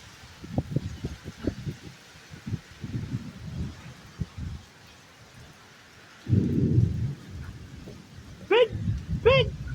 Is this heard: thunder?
yes